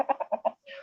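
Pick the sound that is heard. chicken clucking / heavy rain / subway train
chicken clucking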